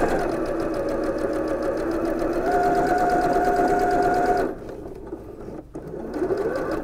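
A sewing machine stitches along the folded edge of an apron from the front, a rapid close whirring run that holds steady for a few seconds, then cuts out, leaving quieter handling noise.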